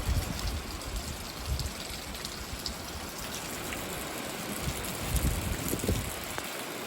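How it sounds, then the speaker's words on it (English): Steady rain coming down outdoors after a long dry spell, a dense continuous hiss of drops with trickling water beneath, fairly loud and unbroken with no voices. "The rain did start coming down, which it has not rained in a really long time here."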